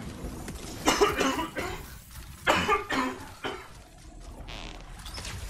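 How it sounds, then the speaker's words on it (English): Several separate coughs burst out in short rough clusters, close and fairly loud, spaced across a few seconds with quiet gaps between, from a person playing the game Anthem. "Sorry for the coughing, guys."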